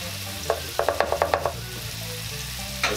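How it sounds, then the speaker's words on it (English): Minced garlic sizzles in a pan for turkey chilli under a rapid series of about eight sharp clicks or taps on the pan, then a soft steady fry with one more tap at the end. "what we're really doing is letting the garlic kind of cook and let off a nice aroma"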